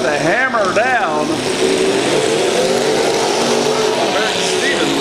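A car in a county fair demolition derby accelerates hard, its engine roaring loud and continuous under an excited voice that opens the stretch, with crowd and track noise mixed in.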